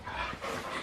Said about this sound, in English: we got a happy but very soggy doggy